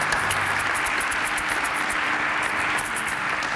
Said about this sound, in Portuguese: Isto merece palmas, eu acho que isto merece palmas.